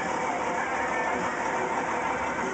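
A motorcycle engine idles steadily and close by, a continuous broad rumble with no breaks and no talking.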